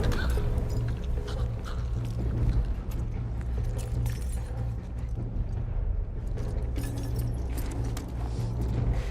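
Dogs in the video game The Last of Us Part 2, barking and whimpering within a dense, continuous wash of game noise and ambience.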